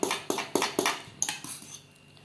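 A metal fork scrapes and clinks against a block of frozen molokhia leaves in a bowl, a run of sharp close taps repeating about every quarter second and then fading into quieter scraping, no talk.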